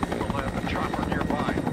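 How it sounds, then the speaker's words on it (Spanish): Helicopter in the video game XIII, a close rhythmic rotor thump with rapid pulsing chops over a droning engine tone, loud and continuous. "Otro helicóptero, muchachos."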